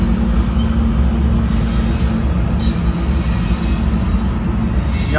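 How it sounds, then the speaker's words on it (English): Union Pacific freight trains roll past at Green River, two moving at once, giving a loud continuous rumble of wheels and cars with a faint high squeal above the low drone. "We got two trains moving at the same time."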